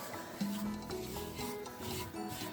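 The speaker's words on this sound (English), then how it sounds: "I'm going to give it a coat of wax now, and I'm using Clark's Stone and Concrete wax. I'm just going to wax it all." Clark's Stone and Concrete wax is rubbed onto a handmade stone or concrete wax warmer, producing quiet, close, continuous scrubbing strokes in a steady rhythm with no talk.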